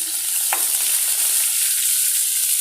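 Garlic sizzling steadily in a hot pan with cooking oil, a continuous bright frying hiss with a couple of soft stirring clicks, close and alone with no voices.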